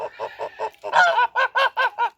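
A goose honks repeatedly in quick, rhythmic bursts, loud and close, the calls growing harsher and stronger after a short pause.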